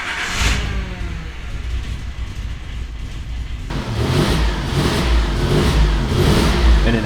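A car engine idling roughly just after a cold start, a steady close mid-range rumble that swells slightly louder and fuller about halfway through, with no voices.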